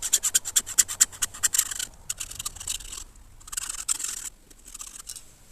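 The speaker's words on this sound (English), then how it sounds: "I'm going to go around with the saw there and just lightly score into it all the way round." A hacksaw lightly scores around armoured cable in short, rhythmic rasping strokes, fast and bright at first, then pausing and resuming in slower scraping bursts, close and unaccompanied by speech.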